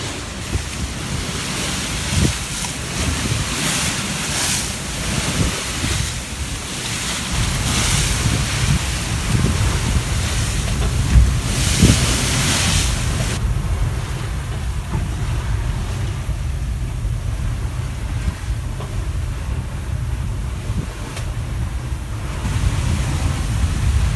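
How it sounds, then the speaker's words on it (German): Steady surf and rushing wind aboard a sailing yacht off southern Spain fill the whole stretch, a broad continuous roar with gusts buffeting the microphone; no voices. "wir haben auch wieder Welle."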